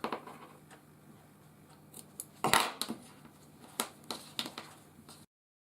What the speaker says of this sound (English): So you want to pull the yarn tails tight and then cut them at the base.